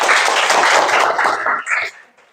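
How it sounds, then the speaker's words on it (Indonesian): A school class clapping hands together during a basketball lesson, a burst of dense, loud, close applause that thins into a few scattered claps and fades out. "Oke, tepuk tangan lagi."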